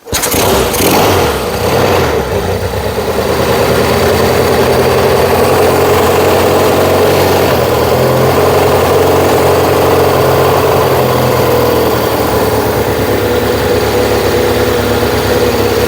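Yamaha XS1B motorcycle engine, a loud close idle after a rough start, settling into a steady low thrumming beat with a slight rise suggesting throttle being opened, no talking.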